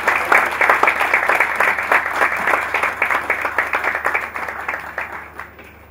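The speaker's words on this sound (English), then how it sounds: "A round of applause." Conference audience at a corporate hackathon event applauding a keynote speaker, a loud, dense burst of many hands clapping close by that continues steadily and gradually fades toward the end.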